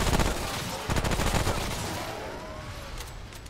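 Rapid gunfire in Remnant: From the Ashes, a fast rattling burst of repeated shots that pauses briefly, resumes, and then trails off into fainter ringing noise.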